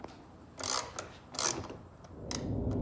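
Bolts are driven back in while reinstalling the side mirror assembly on a 2015 Chevrolet Suburban, heard as three short, close bursts of ratcheting clicks separated by brief pauses.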